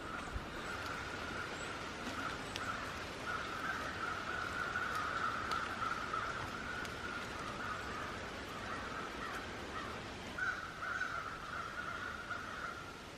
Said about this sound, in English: Can you hear all those birds?